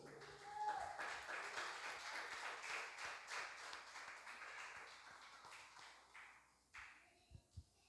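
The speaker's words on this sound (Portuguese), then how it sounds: "Palmas para o Senhor." A congregation claps at a church service, with faint rapid clapping filling most of the clip, then fading into a few isolated taps and knocks near the end.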